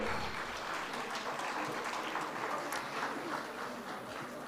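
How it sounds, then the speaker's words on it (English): A conference hall crowd at the national conference of the Association of Clinical Pathologists of Nepal claps in a sustained, even patter that sounds fairly distant and soft and continues for several seconds without speech. "Please give them big round of applause."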